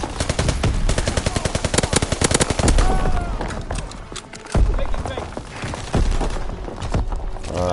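Rapid automatic gunfire in Call of Duty WWII, a steady rattling burst of evenly spaced shots early on, then heavier mixed shooting and impacts, with someone talking over the action.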